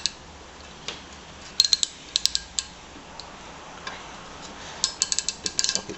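A socket ratchet backs out small quarter-inch cowling bolts on a 1973 Briggs and Stratton 3hp engine, giving quiet scattered clicks that come in short bursts of rapid ticking, close by with no talk.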